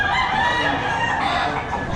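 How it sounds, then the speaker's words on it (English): Gamecocks at a cockfighting event in the Philippines, with crowing and clucking from many birds blending into a loud, dense, continuous din that fills the whole stretch. "This is the matchmaking of our chicken, Cluck Norris."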